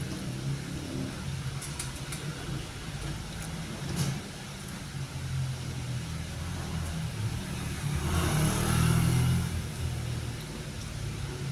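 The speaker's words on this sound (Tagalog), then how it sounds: "Daanan to guys ng tricycle, kaya maririnig niyo yung mga sasakyan." Tricycles and other vehicles pass on a nearby road, a steady engine rumble that swells as one vehicle goes by near the end, with a few faint clicks and no speech.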